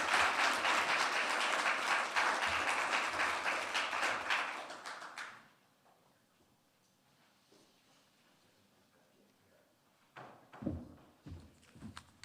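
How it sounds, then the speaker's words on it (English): An audience at a bar association awards ceremony applauds the Silver Gavel Award winners, dense clapping that fades out after about five seconds, then near silence broken by a few scattered knocks and footsteps. "let's give one more round of applause for all of our Gavel Award winners"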